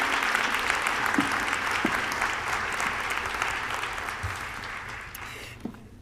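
A graduation audience at a DC law school hooding ceremony applauds steadily to welcome the commencement speaker, a dense, even wash of clapping from a large crowd that holds for several seconds and begins to thin toward the end.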